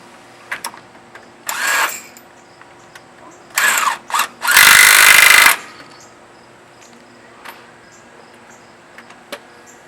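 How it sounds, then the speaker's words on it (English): Primary clutch bolt being tightened on a Can-Am with a power tool, three loud bursts of whirring and rattling of rising length, separated by quiet pauses with faint clicks. "Tighten up the bolt."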